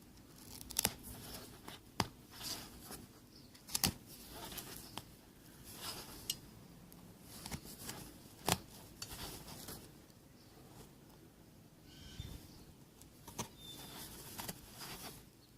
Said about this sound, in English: All we really have to do is keep pulling this material off and then just cut every couple of stitches.